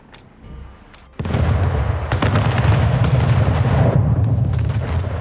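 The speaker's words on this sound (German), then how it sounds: "Schiff unter Beschuss." Naval cannon fire from ships in a sea battle in Anno 1800, with a couple of sharp booms followed by a sustained, dense roar of continuous artillery and blasts rolling on loudly.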